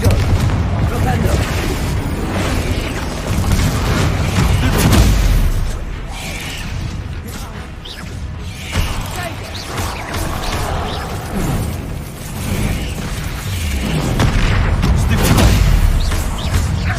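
Confringo explosive spells blasting in Hogwarts Legacy combat, repeated heavy booms and bursts over a dense, loud battle din, with a voice speaking intermittently throughout.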